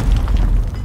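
Grenade blast in a shooter video game, a dense low boom rumbling for under a second, loud and close, with no talk over it.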